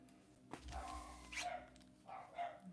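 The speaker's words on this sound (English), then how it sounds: "Sorry if you can hear my dog and the dog we're dog sitting for." Two dogs in a home bark in intermittent bursts, a few sharp barks and yips spaced over a few seconds, moderately near but not loud.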